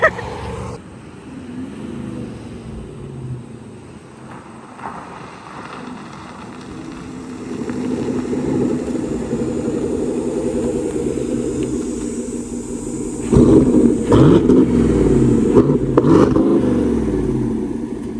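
Low, throaty Corsa exhaust rumble from a passing car, growing louder midway and peaking with a brief rev before settling, heard from a moderate distance.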